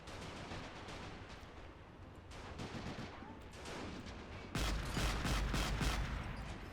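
Repeated 20 mm cannon fire booms in a battle video game, with a dense rumbling volley that grows louder and heavier partway through and rolls on under a muffled battlefield din.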